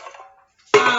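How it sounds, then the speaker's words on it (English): Drained canned peaches slide out of a large can and land in a bowl with a sudden wet, sloppy plop about three-quarters of the way through, after a faint clink of dishes and a brief near-silent pause. "I'm going to dump it in my bowl"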